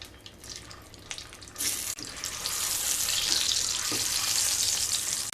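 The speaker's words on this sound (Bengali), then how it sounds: "তেল গরম হয়ে গেলে ডিমগুলো ভেজে নেব।" Eggs frying in hot white oil in a pan, a steady broad sizzle that swells louder partway through and then holds, close and continuous with no talking.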